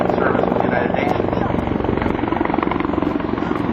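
A twin-engine CH-146 Griffon military helicopter runs close and loud with a steady rotor and turbine roar, and someone talks over the noise throughout.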